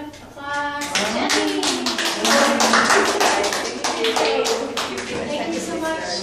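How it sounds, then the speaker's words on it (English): An audience claps after a talk, with many sharp individual hand claps building into a lively round of applause, while a voice speaks over the opening moments. "let's give her a round of applause."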